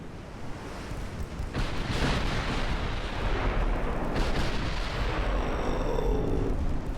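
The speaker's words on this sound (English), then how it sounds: "Yep, the Indomitable took a torpedo on the nose." A torpedo strikes the bow of the battleship Indomitable in the naval warfare game Ultimate Admiral: Dreadnoughts, a heavy rumbling boom that swells into sustained roaring, surf-like noise with cannon fire mixed in.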